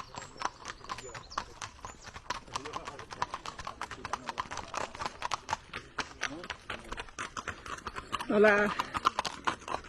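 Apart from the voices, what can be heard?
horses' hooves clip-clopping as riders pass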